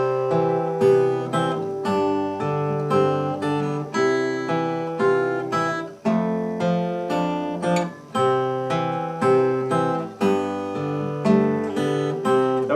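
An acoustic guitar is fingerpicked solo, playing Grandfather's Clock with the melody notes landing on the beats, bright plucked notes ringing in a steady rhythm with no voice.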